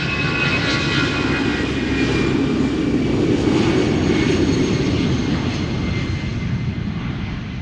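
A TUI airliner bound for Curaçao takes off at Schiphol Airport with a continuous, loud roar of jet engines that fills the whole stretch without a break.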